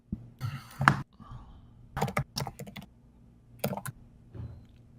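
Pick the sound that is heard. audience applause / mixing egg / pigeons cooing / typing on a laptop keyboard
typing on a laptop keyboard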